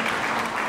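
A concert audience applauds the performers at a New Year's concert, a brief dense burst of clapping filling the room at an even level.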